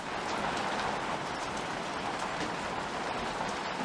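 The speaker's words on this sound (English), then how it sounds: "just listen to the rain" Rain falls steadily outdoors in the desert, pattering on surfaces nearby in a dense, even hiss with no voices over it.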